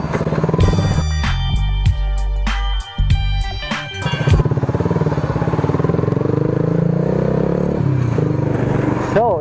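Motorcycle exhaust during a muffler sound check, loud close revs with bursts and chopped throttle blips early on, then a steadier lower idle-like rumble while people talk over it.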